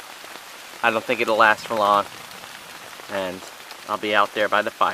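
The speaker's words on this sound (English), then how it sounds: "While the rain keeps coming down, but I don't think it'll last for long." Rain keeps falling on a stormy night at a camp, a soft steady patter beneath a voice that talks over most of the moment.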